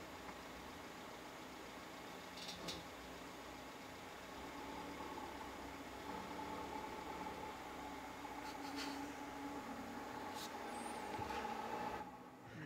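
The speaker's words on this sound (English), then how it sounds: "Let's listen to him drive away." A car engine hums low and steady as the car pulls away from a car meet, a faint, distant drone that swells slightly before fading, with no talk over it.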